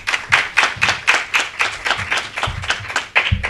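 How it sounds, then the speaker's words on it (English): Audience at a school gang awareness assembly claps in a steady, fairly close round of applause, rhythmic hand claps continuing without talk. "Is that clapping for me or for Mr."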